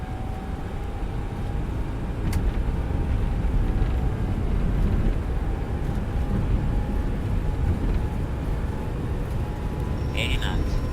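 Boeing 747-8 jet engines spooling up to full takeoff power on the runway in X-Plane 11, a steady loud roar with a rising whine, continuous throughout as a voice talks over it.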